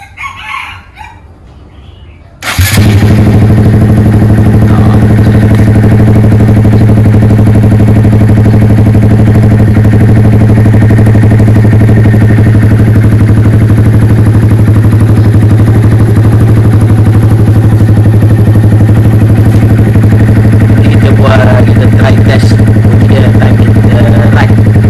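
A Honda Monkey 125 motorcycle fitted with an Aodonly racing exhaust starts up after a couple of quiet seconds, then idles loudly and steadily up close with a deep, even drone and no talking.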